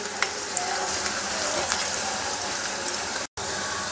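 Cabbage bhajiya fritters sizzle steadily in hot oil in a pan, a dense even crackle with faint scraping touches, broken by a brief dropout near the end.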